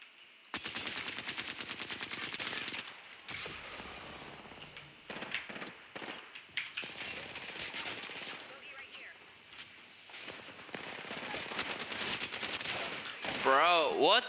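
Rapid automatic gunfire in a shooter video game, long rattling bursts broken by short pauses, fairly loud with game effects and voices layered in.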